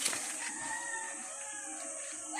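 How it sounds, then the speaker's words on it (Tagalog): Backyard chickens on a small farm call nearby, a rooster-like crow drawn out against a faint steady background, with no people talking. "may mga alaga akong mga manok"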